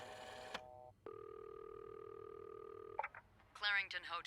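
In the video game This Bed We Made, a telephone at a hotel reception desk sounds with a short dialing beep, then a long steady electronic tone, before a voice starts talking at the end.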